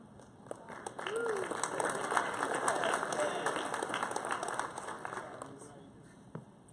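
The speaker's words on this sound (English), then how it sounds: "Let's give another round of applause to the team for the hard work." Applause for a team rises at a varsity athletic ceremony, a steady wash of clapping from the audience in a large room, swelling and fading over several seconds.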